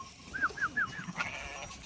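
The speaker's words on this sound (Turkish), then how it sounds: "küçük keçi buradan geldi" A few short bleats from a small goat, four quick calls in a row, fairly close, with a quiet outdoor background.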